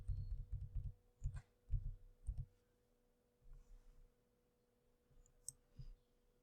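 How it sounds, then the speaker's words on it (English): Arrow keys on a computer keyboard tapped during a TinkerCAD session, several quick clusters of soft clicks in two bursts separated by a pause, close and fairly quiet with no talking. "I'm going to move it over with the arrow keys."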